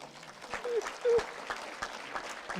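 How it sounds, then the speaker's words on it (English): Applause at an AI in cybersecurity summit keynote comes through fairly faint, with scattered individual claps in the hall and a few brief vocal sounds mixed in. "So I want you to give him a very big round of applause."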